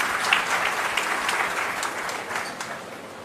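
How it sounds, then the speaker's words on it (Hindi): Applause welcoming a presenter at a government meeting, a steady moderate patter of many hands clapping together in a room, fading slightly toward the end. "तालियों से अभिनंदन करें,"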